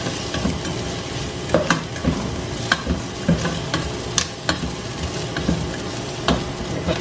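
Aninikad fries in a pan over an open fire, a dense, steady sizzle broken by frequent stirring scrapes and clicks throughout, close and fairly loud with no talk.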